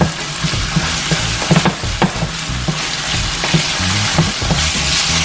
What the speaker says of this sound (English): Everything nicely sauteed.